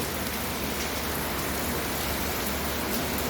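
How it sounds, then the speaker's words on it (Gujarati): Heavy rain pours down in a dense, constant hiss, drumming on surfaces without a break. "હવે આપ જોઈ શકો છો વરસાદ પડે છે"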